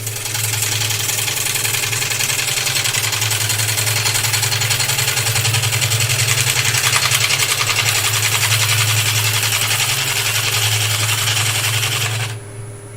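Wood lathe spinning a wooden workpiece at roughly 600 RPM, a steady loud motor hum with a fine rapid rhythmic texture, continuous and unbroken before cutting off abruptly near the end.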